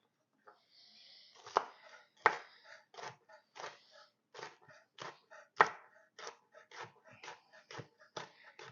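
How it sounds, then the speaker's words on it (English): A knife chops a garden banana pepper on a board, striking in an irregular run of crisp, close cuts with brief pauses between bursts and no voices. "So I just have a banana pepper here from the garden. I'm just going to chop up one of these."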